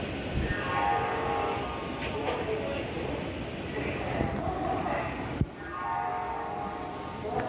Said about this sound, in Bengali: হাওড়া হলদিয়া গ্যালোপিং লোকাল বেরিয়ে যাচ্ছে।